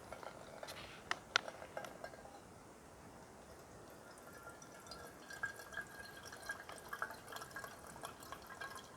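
Water trickles and drips through a camping water filter into a tea kettle outdoors on an island: a faint, steady patter of small drops over soft background noise.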